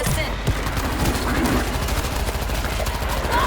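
Rapid gunfire crackles in the zombie shooter video game World War Z, a dense string of loud shots that runs on without a break.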